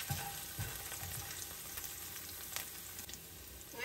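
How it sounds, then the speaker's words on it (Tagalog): Garlic fries in a pan toward golden brown, giving a continuous close sizzle with a few soft stirring taps and a brief louder crackle near the middle; no one speaks. "isutay lang po natin yung ating bawang hanggang magiging golden brown po siya"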